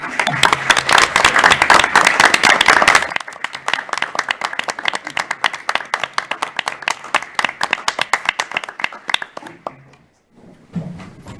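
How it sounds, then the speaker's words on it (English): A school board meeting audience gives a round of applause for parents, dense and loud clapping at first, then thinning into scattered individual claps that trail off, with brief murmuring near the end. "you deserve a round of applause as well"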